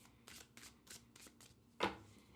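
A chunky tarot deck being riffle shuffled: a run of quick, close papery riffle bursts at a steady rhythm, ending in one louder snap as the cards bridge together, with no talk.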